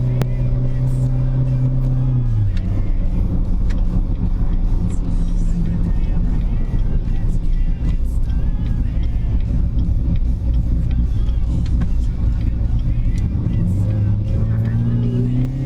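A Corvette with a stage 2 cam rumbles along a quiet street, its loud low engine note holding steady before dropping and then rising again as it accelerates.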